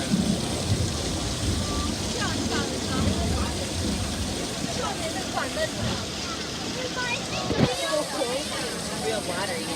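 Staged rain and thunder on a Universal Studios studio tour: a steady hiss of falling water with a sharp thunder crack near the end, while passengers chat over it.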